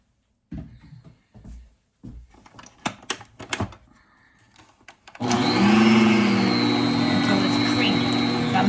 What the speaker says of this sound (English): I'm mixing the egg, sorry if it's loud, but I'm mixing the egg and the vanilla extract together to make it so it's creamy.